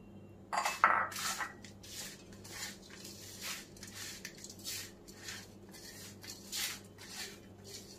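A spoon stirs makhana ladoo mixture of puffed lotus seeds in a bowl: light scraping and soft clinks in uneven strokes, a sharper clatter near the start, then gentle repeated stirring, fairly faint and close with no talk.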